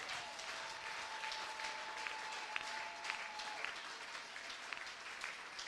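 A church congregation applauds the King of Kings in steady, sustained clapping that fills the room, with a faint held tone sounding underneath for a few seconds.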